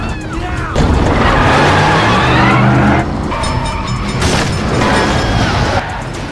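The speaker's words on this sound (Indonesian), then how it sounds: "Gator membawa Medi dengan mobilnya. Hingga saat Dalton datang dan mengejarnya" An action-film car chase in Homefront roars with loud revving engines, screeching tyres and abrupt impacts, dense and continuous throughout.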